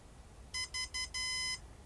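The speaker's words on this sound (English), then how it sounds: "And then it'll beep like that when it's ready." Three short electronic beeps followed by a longer one from a STorM32 3-axis gimbal controller signalling ready, a crisp high-pitched tone pattern, clear against a quiet background.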